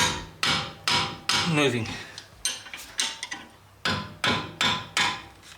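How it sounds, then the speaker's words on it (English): A tool swung like a mallet strikes a brake caliper bolt on a Mercedes-Benz W205 C450 AMG, about a dozen sharp metallic knocks in an uneven rhythm, close and loud, with a brief spoken word partway through. "It makes like a mallet, so you can actually convince the bolt to start"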